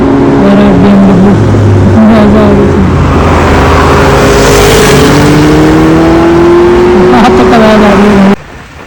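Superbike engine on a sunrise ride, a loud steady drone with rising and falling pitch as the bike accelerates, continuous and close throughout and dropping off at the very end.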